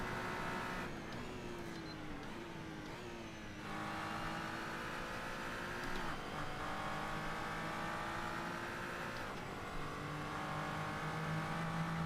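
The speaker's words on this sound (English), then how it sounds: "We're on the limiter of the car here." Car engine held hard against the rev limiter in the Assetto Corsa racing sim, a loud steady high-pitched drone with stuttering cuts and slight pitch dips, continuous with no talking.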